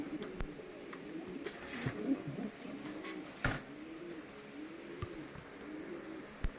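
Top-quality white Bombay pigeons coo in repeated soft, rolling phrases at a farm, with scattered sharp clicks and knocks of movement around them and no talking.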